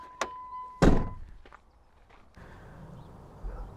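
The frameless door of a Chrysler Neon shuts with one solid, close thunk, preceded by a short click and a brief warning tone, then quiet rustling afterward.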